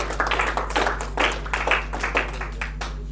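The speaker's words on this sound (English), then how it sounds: "Huge round of applause for Gulnaz" Clapping hands at a social impact influencer event in Goa break into a round of applause for a contestant called to the stage, steady irregular claps filling the room with no talk over them.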